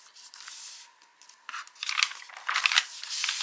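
Paper being folded edge to edge along a crease line to make a book, giving soft crinkling and scraping rustles that grow louder and denser toward the end, close up with no talk.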